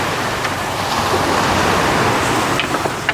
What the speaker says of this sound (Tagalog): Lalo ngayon, no? Malakas ang alon, no?